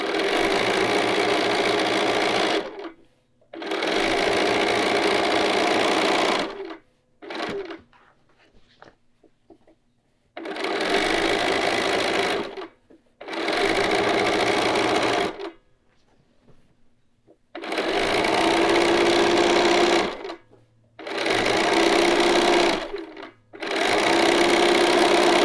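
Sewing machine stitching a skirt in long bursts of fast, loud, close whirring, separated by short pauses and a few faint handling clicks, seven runs in all.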